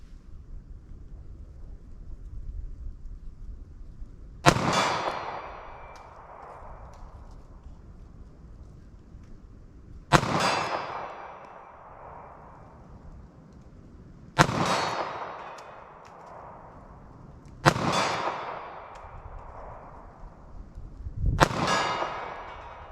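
Five sharp .380 ACP pocket pistol shots fired at a target 40 yards away, spaced several seconds apart, each a loud crack with a ringing decay outdoors, no talking.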